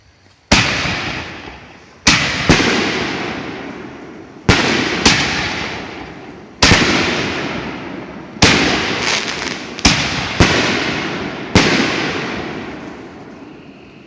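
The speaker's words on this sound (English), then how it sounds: "Inferno shells from Empire Fireworks." Empire Fireworks Inferno canister shells burst one after another, about nine loud sharp booms at uneven gaps, each trailing off into a crackling decay, with no talk.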